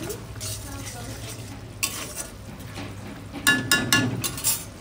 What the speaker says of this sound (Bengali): আর অ্যারারুট গোলা জলটা দিয়ে দেবো এবার, দিয়ে একটু নাড়াচাড়া করে দেবো।